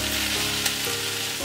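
Cabbage stir fry sautés in a pan with its other ingredients, giving a steady, close, dense sizzle with a faint stir click, and no one speaking.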